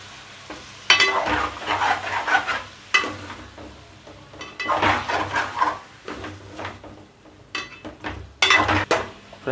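Four large chopped tomatoes tossed into chicken frying on medium-high flame in a curry pot, repeated bursts of loud sizzling and spatula stirring in uneven waves.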